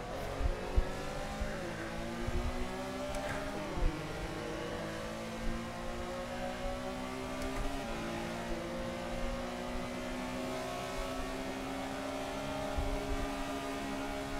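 Porsche Carrera Cup race cars roar around a sim racing circuit, one engine revving hard and climbing through gear shifts in a continuous, loud, close whine.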